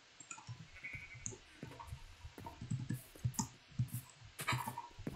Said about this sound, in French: Il y aura un mouton gris, un mouton bleu.